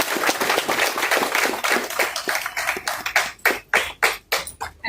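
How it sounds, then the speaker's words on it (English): Applause from an audience at the launch of the Ghana Medical Trust Fund, a dense burst of clapping that thins into scattered separate claps toward the end. "I think we ought to give the task force another round of applause"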